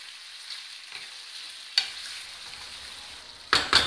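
Chicken makhani frying in butter in a frying pan, with a soft, steady sizzle and a few sharp clanks of a spoon against the pan, the last two close together near the end.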